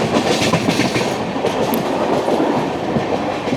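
A Mumbai suburban local train runs on rails toward Thane, a loud, close and continuous rolling roar with rhythmic clickety-clack from the wheels over the track joints.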